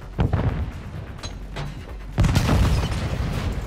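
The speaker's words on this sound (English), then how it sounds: "Throwing a stun grenade!" Stun grenade blast in Call of Duty: Modern Warfare II, a deep boom followed by a long, loud rumbling roar amid continuous gunfire-like bursts, close and heavy.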